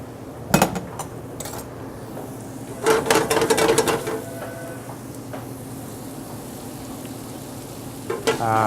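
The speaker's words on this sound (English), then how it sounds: "Now I'm going to put my shallots in here." Chopped shallots go into a pan of gently bubbling fat and cook, giving a soft, steady sizzle broken by a few sharp clinks and scrapes of a utensil against the pan.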